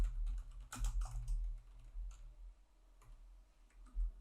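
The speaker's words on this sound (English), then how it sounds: "So I'll just start typing here at the very top" Keys tapped on a computer keyboard in scattered, uneven bursts of soft clicks, fairly close and fairly quiet, with short pauses between strokes and no talking.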